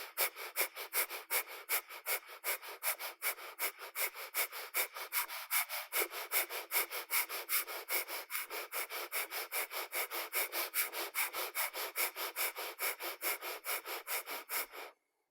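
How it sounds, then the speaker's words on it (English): Rapid breath-of-fire yoga breathing during a Kundalini session: steady, forceful nasal pulses, about three per second, close and alone for the whole stretch before stopping abruptly. "pulsing the belly with breath of fire again"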